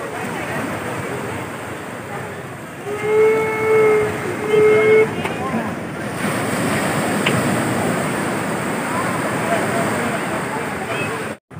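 Steady rolling surf of sea waves on a beach at Puri, a continuous broad wash with faint wind, while a tonal whistle-like sound briefly rises above it in the middle.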